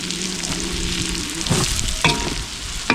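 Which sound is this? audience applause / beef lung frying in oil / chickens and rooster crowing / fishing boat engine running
beef lung frying in oil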